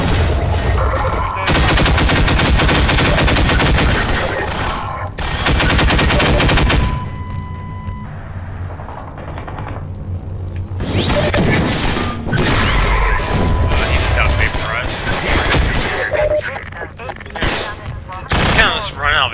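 Gunfire in Half-Life 2 during the Anticitizen One chapter: dense, loud bursts of shots and rapid automatic fire with crashes and booms, broken by a brief lull before heavy shooting resumes, with music-like game sounds underneath.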